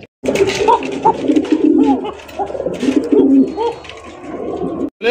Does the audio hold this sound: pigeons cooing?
yes